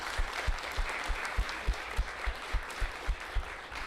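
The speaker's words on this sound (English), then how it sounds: "let's have a big round of applause" An audience at a blockchain industry panel gives a round of applause, a moderate bed of clapping with regular low thumps pulsing through it.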